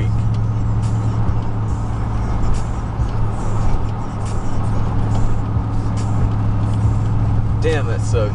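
A 2000 Chevrolet Silverado pickup with a 4.8 V8 drones steadily while driving, a constant low engine rumble with road noise that holds an even loudness from start to finish.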